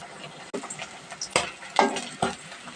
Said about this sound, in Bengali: এখন সবজিগুলো ভাজবো।